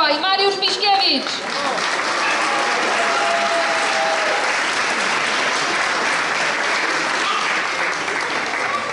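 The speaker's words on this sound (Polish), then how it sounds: "Także wielki, wielki brawa." A crowd at the awards ceremony of an extreme mountain half-marathon breaks into sustained applause for the runners. Dense clapping continues throughout, with a voice over a loudspeaker talking briefly at the start.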